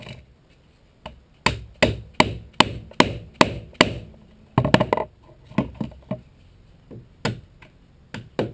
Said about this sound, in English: So now it's just getting the mallet and kind of bending that into shape